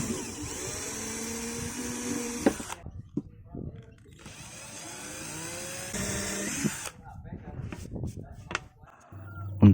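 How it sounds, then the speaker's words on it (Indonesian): A power drill whines in two long bursts, steady and close, boring into a wooden box for a door pull, separated by a pause, with scraping and clicks of handling afterward. "lalu saya bor."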